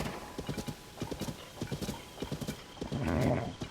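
Horse hooves clip-clop in Zelda: Tears of the Kingdom, a quick, steady run of crisp hoofbeats in regular groups, ending with a brief neigh-like whinny, fairly close, with only faint voices in the background.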